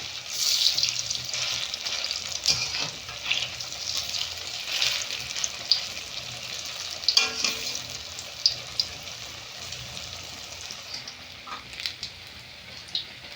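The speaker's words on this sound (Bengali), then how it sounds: "এই দেখুন চপগুলো বেশ ভালো করে ভাজা হয়ে গেছে" Banana flower fritters fry in hot oil in a pan, a steady bright sizzle with occasional crackles and soft stirring or turning clicks, close and moderately quiet with no talking.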